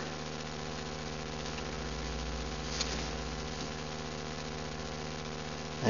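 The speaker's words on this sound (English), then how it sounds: "crossover-like power nozzle for my Central Vac" A central vacuum with a crossover quiet drive power nozzle runs steadily, a constant low motor hum with faint whirring, fairly quiet and unchanging, with a brief click near the end.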